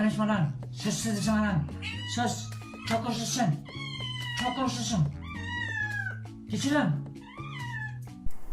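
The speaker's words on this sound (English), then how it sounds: "the cat's trying to protect its owner in a nice way by doing a cute meow noise" A cat meows over and over, drawn-out and wavering cries, close and fairly loud, with a person talking at the same time.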